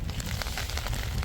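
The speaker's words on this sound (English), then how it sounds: "so people can appreciate the wind and the rain and how bad it's getting." Gusting wind and driving rain during sea fishing for cod, a dense rumbling, crackling wash buffeting the microphone throughout the brief moment, no voices.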